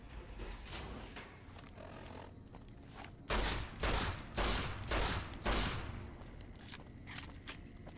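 Loud .44 pistol shots in Fallout New Vegas, a cluster of about four or five heavy bangs near the middle, standing alone over a low steady game ambience.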